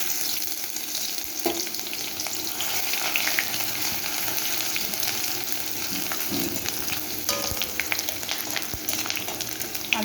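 Cardamom, cinnamon, cloves and chopped ginger sizzle steadily in hot oil in a pan for yellow Gobindobhog rice pulao, a loud continuous crackling fry with occasional sharper pops and stirring clinks.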